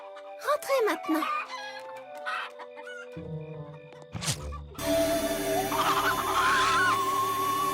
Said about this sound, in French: Vous êtes de gentilles petites poules.